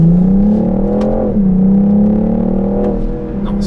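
A 2021 BMW M440i Coupé in M Sport trim drives through corners, its engine holding a steady loud drone that dips briefly and then swells again, with a faint voice underneath.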